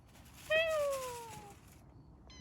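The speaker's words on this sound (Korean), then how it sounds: "고양이가 밥 달라고 냄새 맡고 왔어." A cat meowing for food at a glamping barbecue, one clear drawn-out meow that falls in pitch, followed by a short higher chirp, heard alone over quiet background noise.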